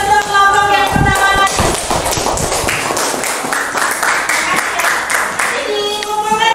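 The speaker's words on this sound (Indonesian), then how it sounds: "kita berikan tepuk tangan atau aplaus untuk kelompok yang pertama." A class gives a round of applause to the first group, scattered near claps with a few thumps that build into steadier clapping, with a voice at the start and end.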